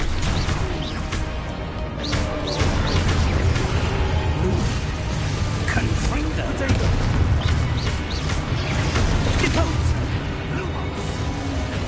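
Repeated Confringo fire spells blasting during a Hogwarts Legacy duel, a dense barrage of booms and crashes layered over constant battle noise and shouted incantations.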